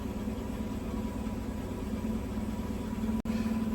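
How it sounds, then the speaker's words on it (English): A car engine idles steadily at low, even revs in an emissions-testing setting, running slightly rich after bogging down; a constant droning hum with a brief dropout near the end, no talk. "And the engine kind of bogged down a little bit."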